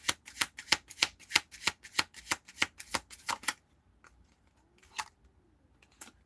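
Playing cards riffle-shuffled in quick, crisp bursts, about a dozen rapid rattles close up for several seconds, then only a couple of faint shuffling sounds with near silence between.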